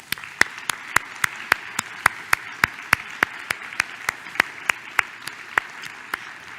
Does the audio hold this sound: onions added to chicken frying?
no